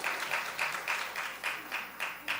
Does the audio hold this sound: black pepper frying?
no